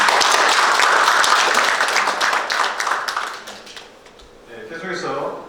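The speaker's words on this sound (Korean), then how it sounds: "박수 한번 다시 한번 부탁드립니다." An audience at a book launch ceremony for an explorer's publication claps, with dense, fairly loud applause for about three seconds that thins and fades, followed by lighter scattered claps.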